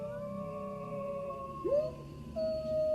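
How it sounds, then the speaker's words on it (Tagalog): Dogs howl loudly at night in long, wavering, drawn-out cries that rise and bend in pitch, heard over a soft steady background hum. "Ang lalakas ng alulong ng aso?"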